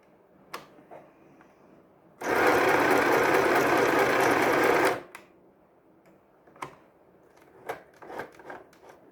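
A sewing machine runs a straight stitch in one steady burst of about three seconds, stitching lace for a junk journal page, with quiet handling clicks before and after.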